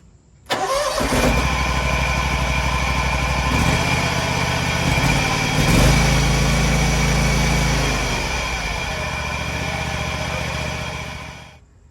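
A Kawasaki engine on a Gravely zero-turn mower, just fitted with a new ignition coil, cranks and catches after half a second, then runs steadily and loudly with a brief rev near the six-second mark before settling at idle.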